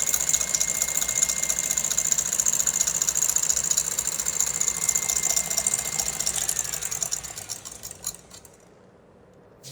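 Blender at maximum speed whipping vegan meringue from about five to six tablespoons of liquid, a loud steady high motor whine for most of the clip before spinning down and stopping near the end.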